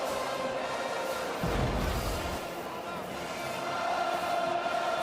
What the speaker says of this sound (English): And the crowd that's left is fired up.